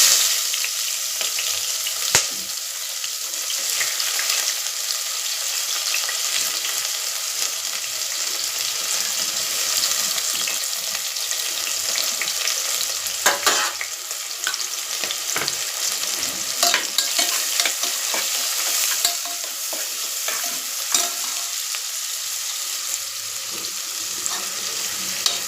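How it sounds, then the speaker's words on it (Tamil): Small onions frying and sizzling in a pan for Tamil home cooking, a steady hiss with occasional stirring scrapes and clinks, heard close and alone without talk. "இப்போ வெங்காயத்தை போட்டுக்கலாம்"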